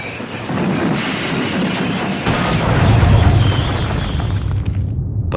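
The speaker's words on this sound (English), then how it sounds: "His driver reduced steam and braked hard." A loud, heavy rumble of a steam train reducing steam and braking hard, with grinding, hissing noise that swells midway, sustained and close, with no voices.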